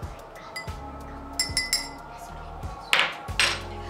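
A metal spoon clinks repeatedly against a drinking glass during a water solubility experiment, producing sharp, close taps in an irregular rhythm over a faint background hum, with no talking.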